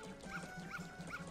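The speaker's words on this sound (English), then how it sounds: "I think this dog attacks me" A dog in Zelda: Majora's Mask gives three evenly spaced yips or barks, thin and game-like, fairly faint against a quiet background.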